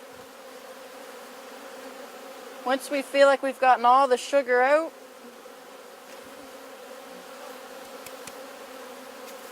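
Honey bees held for sugar-dust varroa mite monitoring buzz in a steady, even hum throughout, with a short stretch of speech over the drone.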